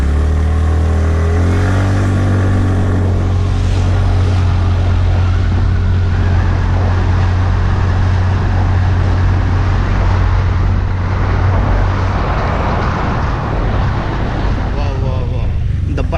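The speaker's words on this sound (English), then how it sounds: "now we'll test this bike acceleration." TVS Ntorq BS6 scooter accelerating on a ride test in the city, engine drone rising steadily under heavy wind rush throughout.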